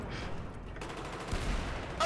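Rapid pistol fire from an MP443 in a first-person shooter video game, a dense stream of sharp shots cracking close by over a noisy match background.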